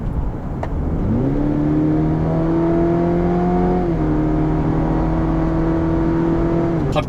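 A Cadillac CT4 accelerates, its engine note rising in pitch after a second, holding a steady climbing drone, dipping briefly at a shift, then continuing strongly under constant road and wind noise from inside the car.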